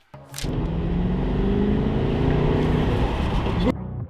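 A car imported from America drives out, its engine giving a steady, loud, close rumble for about three seconds after a sharp noise at the start, then cutting off abruptly.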